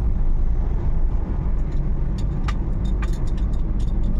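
Suzuki Every Wagon DA64W turbo van driving slowly on a road near Cavite City, a steady low road and engine rumble with some faint rattling clicks in the cabin.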